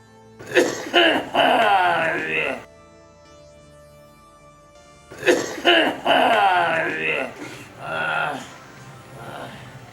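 Two bursts of harsh, repeated coughing with throat clearing, separated by a brief quiet stretch, close and loud.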